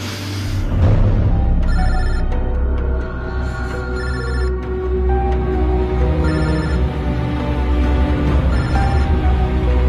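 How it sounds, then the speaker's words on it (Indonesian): Telephone ringing unanswered in a tense beach setting from an Indonesian horror film, repeated electronic ring bursts in a steady rhythm over a loud, dense background. "Ayo dong, Mal, angkat telepon lu, Mal."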